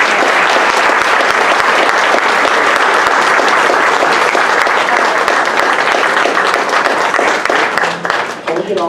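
An audience at a Green Leaf awards ceremony for students breaks into loud, sustained applause. The clapping is close and dense and fades slightly near the end.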